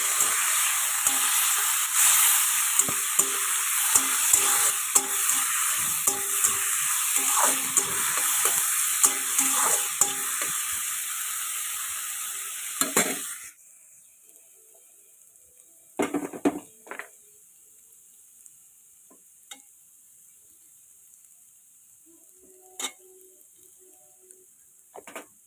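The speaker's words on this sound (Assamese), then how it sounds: "অকণমান বাকলিখিনি ভাজি হোৱাৰ পিছতহে মই গুটিখিনি দিম" Papaya peels fry in a pan with a loud, close, continuous sizzle broken by stirring scrapes and clacks, then the frying drops to a quiet background hiss with only occasional utensil knocks.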